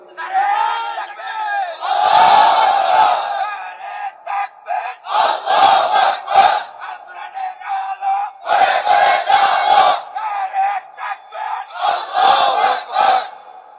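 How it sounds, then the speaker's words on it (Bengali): A large crowd at a religious gathering chants a slogan in loud unison, answering in repeated bursts of several seconds with short pauses between them. "দেখি একজনের স্লোগান দেন তো দেখি"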